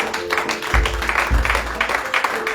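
A church congregation breaks into brief applause, a dense patter of many hands clapping with a couple of heavy low thumps, moderately loud and close.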